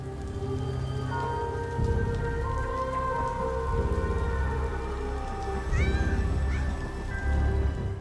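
Cats from Gotham series footage meowing repeatedly in the rain, several plaintive cries rising over a steady patter of rainfall, fairly close and clear.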